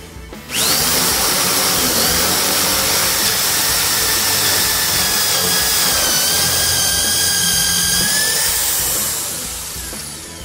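Makita HP1630 hammer drill running steadily into a piece of wood, a loud continuous high motor whine starting abruptly after half a second and holding for about nine seconds before easing off, with no talking.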